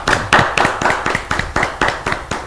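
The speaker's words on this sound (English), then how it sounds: "Please let's give him a hand of applause." Studio audience applauding a guest on a live debate talk show, a steady run of close, bright hand claps with regular pulsing bursts lasting a couple of seconds.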